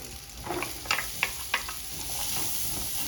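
Diced onion and chicken stirred in melted butter in a pan, a steady sizzle with a few sharp scraping clicks of the utensil, close and moderately loud, no talk.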